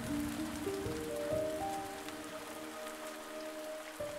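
Steady rain falls on a cold night in a village in the video game The Spirit and the Mouse, a soft continuous hiss under gentle sustained musical tones.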